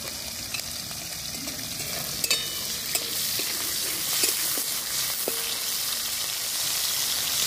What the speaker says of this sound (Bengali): চিংড়ি মাছ হালকাই ভাজবো,